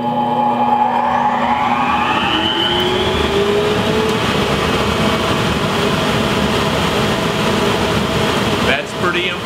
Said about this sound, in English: I bet you've never seen anybody balance a nickel on top of their dust collector.